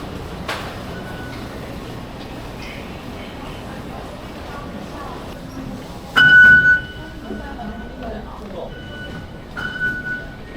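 Taipei metro train at a station, a steady rumbling hum with a brief loud squeal or chime partway through and faint higher tones near the end, with some indistinct voices in the background.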